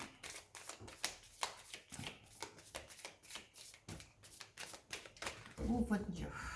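Tarot cards are handled and drawn in a rapid run of crisp, close riffling and flicking snaps, with a brief voice near the end.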